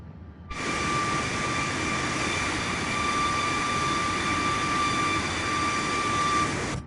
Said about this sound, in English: Both engines are running.